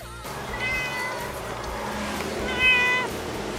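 A cat meows close by, two drawn-out, wavering calls, the second louder, over a quiet low background hum, with no speech.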